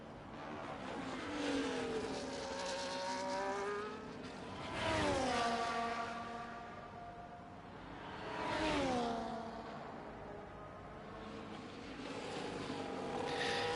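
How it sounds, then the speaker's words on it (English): Race car in a sim racing game at Imola, engine notes rising and falling through gear changes as cars pass in repeated waves, steady and moderately loud with no voices. "Here comes Cialda anyway, through Sector 1"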